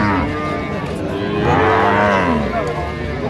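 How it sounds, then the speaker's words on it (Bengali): At a village cattle market in Dinajpur, a dairy cow and her calf moo loudly and close by, one long drawn-out low call filling the moment without talk. "গাভী বাছুর।"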